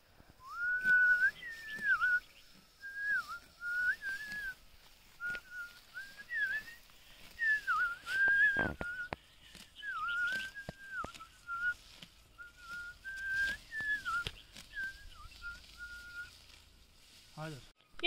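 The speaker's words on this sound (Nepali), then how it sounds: "एकदम राम्रो सुसेल्नु हुँदो रहेछ।" Someone whistles the Nepali folk tune Ukali Orali, a clear melodic line in repeated short phrases, fairly close, with occasional clicks and handling noise between phrases.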